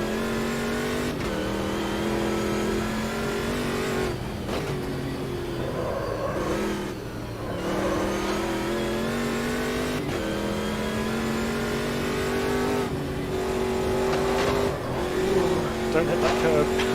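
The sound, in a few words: racing truck engine on Nordschleife, Automobilista 2 video game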